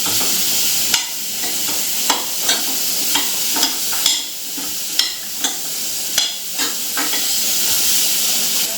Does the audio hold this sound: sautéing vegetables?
yes